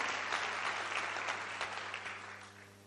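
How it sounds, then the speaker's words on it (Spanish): A church congregation applauds in a short, dense burst of clapping that gradually eases off, with a low hum running underneath. "dale un aplauso al Señor"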